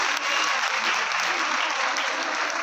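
A crowd applauds after a stage performance at a live celebration event, with dense, steady clapping that fills the whole moment at close range and loud volume, and no voices rising above it.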